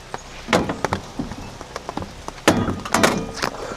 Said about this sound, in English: it's not raining, it's drizzling, it's just a light rain